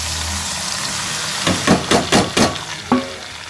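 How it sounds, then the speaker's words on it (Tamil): Curry leaves and raw mango pieces sautéing in hot oil for pickle, a steady background sizzle broken by five or six close stirring scrapes in quick succession. "ரெண்டு கைப்பிடி கருவேப்பிலை போட்டுருக்கேன் இது ரெண்டையும் நல்லா வதக்கிடணும் வதக்கிட்டு இந்த மாங்காயை கொட்டிடலாம்"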